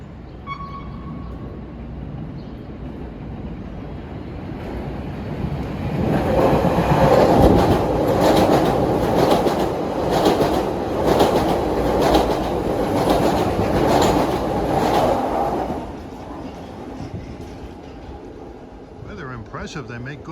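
A Chicago CTA elevated rapid transit train rumbles past nearby on a rainy day with rhythmic clickety-clack from the wheels, swelling loud then fading as it moves on, with occasional voices in the background.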